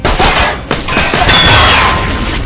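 Gunshots in the game Tales from the Borderlands: a loud burst of sharp bangs in quick succession, followed by booming impacts and ringing debris for the rest of the short moment.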